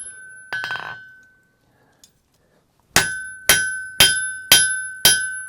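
A blacksmith squares up a tomahawk head on the anvil: an early ringing strike, a pause, then five evenly spaced, sharp metallic hammer blows ringing out loud and close.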